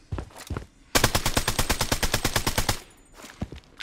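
Rapid automatic gunfire from a Project Bloodstrike shooter match: a loud, near burst of about twenty evenly spaced shots lasting nearly two seconds, with a few scattered single shots before and after.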